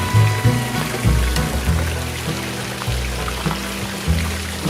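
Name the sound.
waterfall in garden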